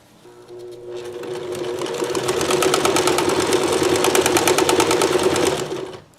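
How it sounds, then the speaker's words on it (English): A sewing machine stitches fabric strips for decorating towels, starting up and running in a steady, rapid close-up whir for several seconds before stopping. "I'm running the fabric right on the out edge of my presser foot"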